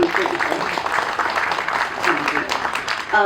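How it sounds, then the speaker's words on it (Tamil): An audience at a Tamil book launch and music-service honour ceremony gives a sustained round of applause, a dense wash of clapping throughout, with a voice briefly rising at the very end. "முதல்ல ஒரு பெரிய நன்றி சொல்றதற்கு ஒரு கரகோஷம் கொடுத்துருக்கேன்"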